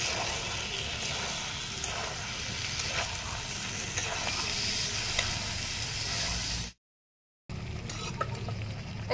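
Chicken with potatoes and tomatoes sizzles in a pan, cooked with bottle gourd. Steady frying hiss and stirring sound close by, then a brief silent gap before the sizzle returns.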